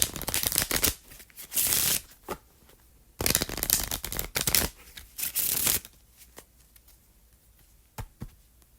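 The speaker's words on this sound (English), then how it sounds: "so let's pull the cards" Tarot cards being shuffled and pulled from the deck, two bursts of close riffling shuffles followed by softer slides and taps as single cards are drawn.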